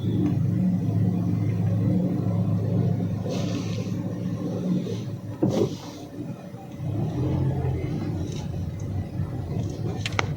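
A car creeps into a parking spot beside the municipal hall under construction in Castillejos, its engine a steady low rumble with a brief dip and swell, close and alone.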